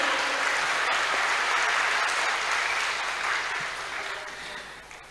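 Audience applause at a national seminar on stunting at a health sciences college, a steady broad wash of many hands clapping that fades gradually toward the end.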